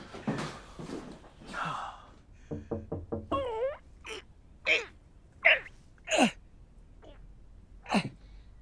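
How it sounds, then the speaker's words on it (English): A quick series of knocks on a door, four or five sharp raps close by, come after some indistinct sounds, followed by scattered clicks and shuffles in a quiet room. "Bryn, door."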